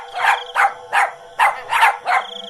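A dog barks six times in a quick, uneven series, each bark loud, close and yelping, with short gaps between them.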